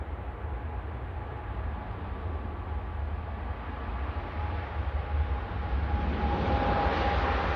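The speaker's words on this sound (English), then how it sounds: "Dreamliner." A Boeing Dreamliner airliner rumbles nearby at Manchester Airport, a broad steady engine roar that grows gradually louder, with a faint tonal whine and no voices.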